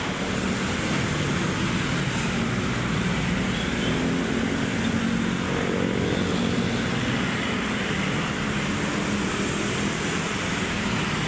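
Heavy vehicle traffic along Roxas Boulevard by Manila Bay makes a steady, close rumbling wash of engines and tyres that holds for the whole stretch, with no voices.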